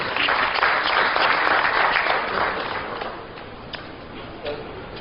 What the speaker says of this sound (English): So let's welcome our minister with a round of applause.